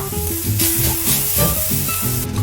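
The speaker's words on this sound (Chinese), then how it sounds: "我们锅里什么都不用放，直接放生姜就可以了，一定是这样干炒的" Minced ginger dry-frying in an empty wok with no oil, a loud steady sizzle and crackle while the pieces are stirred, with music playing underneath throughout.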